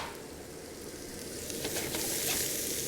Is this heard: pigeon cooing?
no